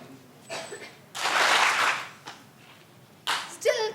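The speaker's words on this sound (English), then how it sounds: "And everybody should clap together." A group of people at a Teachers Day celebration clap in a ragged, loud burst of about a second that is not quite together, followed later by a few scattered claps, with some talking in between.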